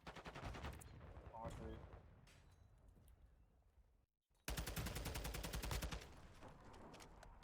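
Burst fire from a gun in the video game Modern Warfare 2, with loud, dense rapid shots that cut out briefly before a second sustained volley.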